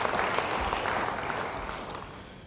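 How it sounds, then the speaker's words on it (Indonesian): A church congregation claps together in steady, sustained applause that sounds moderately distant and slowly fades over a couple of seconds. "Beri tepuk tangan bagi dia."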